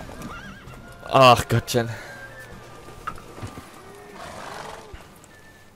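Horses gallop in a race in The Witcher 3, with a loud whinny and neighing up front, clip-clopping hooves around it, and a voice speaking briefly over the scene.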